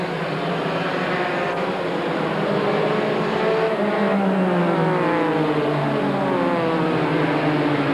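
NASCAR Busch Grand National Series race cars from a 1993 race at Myrtle roar steadily and loudly as the pack comes out of turn four, layered engine drones rising and shifting in pitch throughout with no voices.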